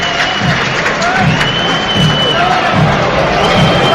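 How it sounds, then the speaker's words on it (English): Football crowd at Prenton Park during a Tranmere Rovers match against Forest Green Rovers, a loud, dense roar of cheering, chanting and whooping with rhythmic surges, filling the stadium continuously. "Excellent crowd inside Prenton Park here tonight."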